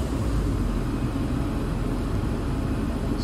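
A Toyota Verso engine idling steadily just after an oil and oil filter change, a smooth continuous low rumble close by with the cabin blower running high, no voices.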